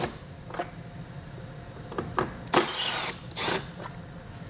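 A power tool drives out bolts with a T20 Torx socket under a front panel of a 2019 Lincoln Nautilus, giving several short separate bursts, with two longer whirring runs near the end, fairly close and with no talk.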